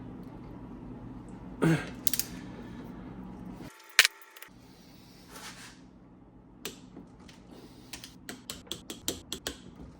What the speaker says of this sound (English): Now we're gonna find the correct torque and we're gonna torque them.